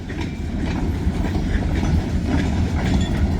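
Loud, continuous rumbling of a freight train being pushed backwards on rails, with rhythmic wheel clatter close by and no horn.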